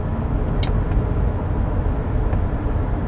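A car on a lunch drive, heard from inside the cabin as a loud, steady low engine and road rumble throughout, with a brief faint click near the start.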